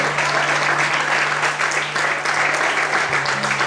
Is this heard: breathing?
no